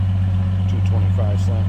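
A 1966 Dodge Dart's 225 slant six idles smoothly with a steady, low, even hum, while someone talks over it close by.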